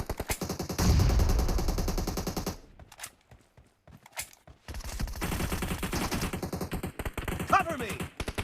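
Automatic gunfire in the video game PUBG, with bursts of rapid shots, short pauses and a few single cracks, loud and close through a phone speaker.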